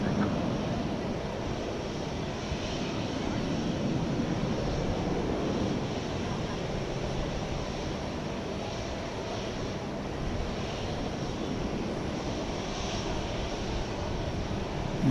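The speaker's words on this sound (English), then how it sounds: "It's an Airbus A319." An Airbus A319 jet at DFW Airport at night makes a continuous, moderate engine roar that holds steady and lingers at a middle distance throughout, with no speech over it.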